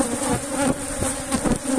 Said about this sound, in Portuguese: muita abelha, ó.